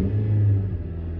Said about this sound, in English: I'm going to give you 56 cents worth of gas revving my car.